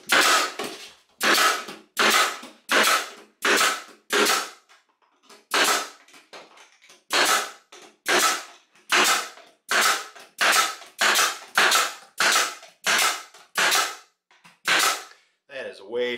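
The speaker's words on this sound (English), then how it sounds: "Now that all my underlayment is stapled down" A staple gun fires into floor underlayment in a rapid series of sharp, loud snapping shots with brief gaps between them, about twenty close-up strikes in a steady, somewhat uneven rhythm with no voices.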